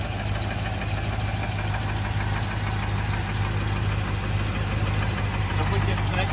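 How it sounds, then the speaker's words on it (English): An old car engine idles steadily and close, a constant low rumble with faint ticking from the lifters mixed into the drone. "There was a little bit of lifter noise that just came and went real quickly."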